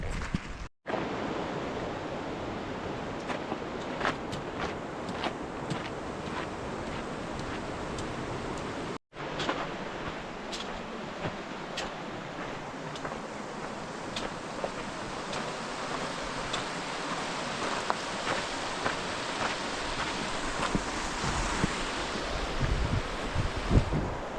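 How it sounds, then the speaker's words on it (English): A creek flows in the Grand Canyon along the Arizona Trail as a steady broadband rush that holds constant throughout, with faint ticks and clicks scattered over the water noise. "Pretty cool creek intersection right here."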